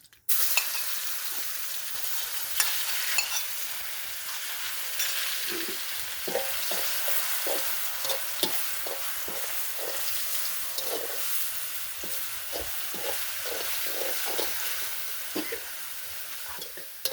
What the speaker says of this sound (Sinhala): මෙන්න සුදු ලුණු ටික පොඩ්ඩක් තෙලෙන් කර කරගන්නවා